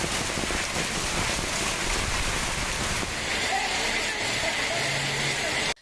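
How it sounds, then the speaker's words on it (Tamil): Heavy rain in a thunderstorm in Tamil Nadu, a dense steady hiss of downpour that stays loud and continuous before cutting off abruptly at the end. "இடி மின்னலுடன் கூடிய பலத்த மழை பெய்தது"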